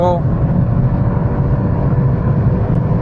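A BMW 330i G20 engine, a two-litre petrol, hums steadily with a low drone, building under the cabin noise as it accelerates hard from 160 km/h; a voice is heard briefly at the start.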